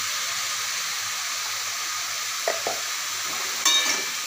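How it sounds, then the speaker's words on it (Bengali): Steady frying sizzle with brief stirring scrapes as turmeric powder is mixed into cooking water lily (shapla) vegetable in a pan, the hiss continuous and close with a couple of sharper clatters near the end. "দিয়ে ভালোভাবে নাড়িয়ে নেব"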